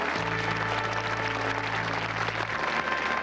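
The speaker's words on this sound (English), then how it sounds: "Give them a round of applause" A 1986 game show studio audience applauds the contestants, a steady, even roar of clapping over a low hum that lasts throughout.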